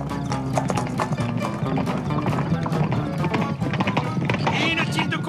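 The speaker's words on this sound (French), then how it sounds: "Hé, Joe, il y a plein de cavaliers qui arrivent." Many horses gallop in steadily with rapid, overlapping clip-clop hoofbeats as a band of cartoon riders arrives, loud and continuous under dialogue, with a brief neigh.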